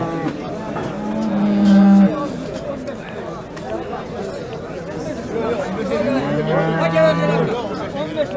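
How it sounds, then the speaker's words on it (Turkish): Cattle lowing at a busy livestock market, two long, loud moos rising over a steady hubbub of crowd chatter and people talking nearby. "Pazarda inek çok ya."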